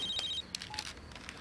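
A telephone rings at night with a short bright electronic trill at the start, then a few fainter tones and soft knocks in a quiet room.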